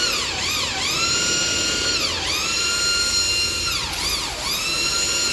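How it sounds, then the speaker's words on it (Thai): Power drill boring through spot welds on a rusted car chassis panel, its high whine repeatedly dipping and rising again as the bit bites into the metal, close and loud with no talking. "เจาะออกนะครับ"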